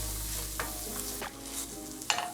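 Wet sizzling in a pan while a utensil stirs and scrapes up chicken fond with sugar caramelizing, three distinct scraping strokes over a steady, fairly quiet frying hiss, no voices.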